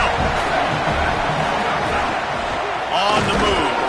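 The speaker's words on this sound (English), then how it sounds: "This crowd rising up, sensing that its defense needs some help." A football stadium crowd rises into a loud, sustained roar during a college football game, a broad wash of noise that swells toward the end with a commentator talking over it.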